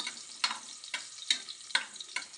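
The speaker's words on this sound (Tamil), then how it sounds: "நெய்யில் கொஞ்சம் வரட்டணும்." Chopped dates roasting in ghee in a pan, a soft steady sizzle broken by about five sharp scraping stir strokes at a regular pace, close and moderately loud, with no voices.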